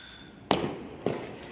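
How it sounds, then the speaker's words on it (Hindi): Diwali firecrackers going off outside, two sharp bursts about half a second apart, each a loud bang with a short rumbling tail, set against quiet background noise. "बहुत ज़्यादा पटाखे वटाखे छूट रहे हैं चारों तरफ"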